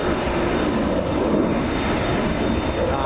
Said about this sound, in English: Hear the engines of that A380.